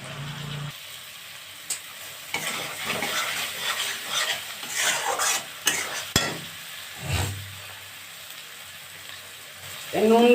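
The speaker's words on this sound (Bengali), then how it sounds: "এবার আমি একটু এটাকে নেড়ে নেব" Frying potatoes for a fish curry are stirred in a pan, giving a soft, uneven sizzle with scraping strokes and a few sharp utensil knocks. A louder clatter comes near the end.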